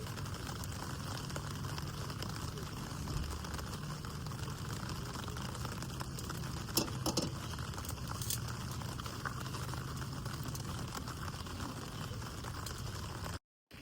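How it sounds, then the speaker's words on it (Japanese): Rain falling at a campsite during the rainy season: a steady, even hiss with no voices, holding at one level until it cuts off abruptly at the end. "雨降ってきちゃったから"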